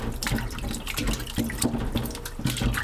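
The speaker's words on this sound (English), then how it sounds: "pour fresh water on it" Fresh water pours from a tap over raw chicken in a kitchen sink, a steady close splashing rush with small irregular spatters.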